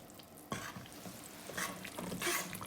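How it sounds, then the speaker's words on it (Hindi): Flaxseed roasts in ghee in a pan while being stirred, giving a faint sizzle with soft scraping strokes, quiet and close with no voices. "तो तकरीबन मैंने 5 मिनट इसको घी में भूना है"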